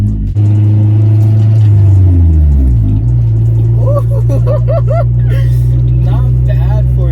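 Honda Civic fitted with a cheap eBay aftermarket exhaust, a loud, steady low engine drone that dips and settles at a lower idle-like rumble, with someone talking over it in the second half.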